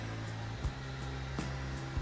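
Steady whirring hot airflow from a hair dryer blown into the spark plug holes of a flooded Mazda RX8 rotary engine to dry the rotors, continuous and close with a few faint knocks.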